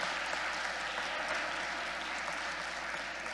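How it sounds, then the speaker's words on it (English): Audience at a youth conference poetry slam applauding the judges, a dense, even wash of clapping that holds steady throughout, moderately distant and without pause. "Can I please just real quick get the loudest round of applause for the judges"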